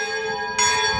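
Cathedral bell ringing inside the bell tower in Split, Croatia, a sustained loud metallic tone with rich overtones that swells sharply partway through as a new strike lands, close and dominant with no talk.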